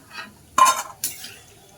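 Gram flour fritters (besan bora) frying in a pan of hot oil, heard as two short bursts of bright sizzling and crackling separated by brief quiet, close and fairly clear with no talking.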